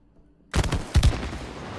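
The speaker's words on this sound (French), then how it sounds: "les explosions sont peut-être un peu fortes" Video game explosions in It Takes Two, a silence broken by a sudden booming blast followed by a second heavy burst, loud and close, with rumbling debris trailing off afterward.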